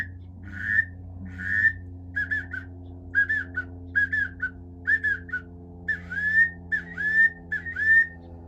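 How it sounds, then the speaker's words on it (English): A 5-in-1 duck call whistle sounds in a string of short, reedy chirps and trills, about ten bursts in a loose rhythm, close up and alone. "you can make the same thing, a 5-in-1 type whistle"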